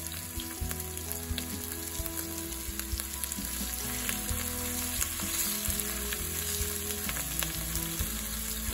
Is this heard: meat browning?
yes